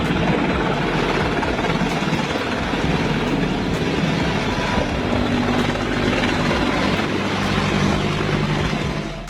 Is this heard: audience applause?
no